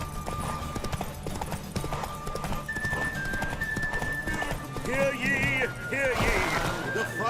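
Roach, Geralt's horse, gallops in a derby race in The Witcher 3, with steady rapid clip-clop hoofbeats and a few whinnies near the end, mixed with game music and voices.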